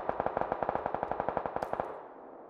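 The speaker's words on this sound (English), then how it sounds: "Some of their shots hit my building again, which I find very curious." Rapid automatic gunfire in PUBG striking a building, a fast steady burst of about twenty sharp loud shots with a short echoing tail as it stops.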